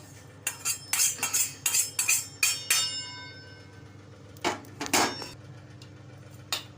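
Roasted poha tipped out of a hot pan into a wide plate (parat) while making chakli bhajani flour, with a run of metallic clinks and scrapes, a pause, then a few louder scrapes.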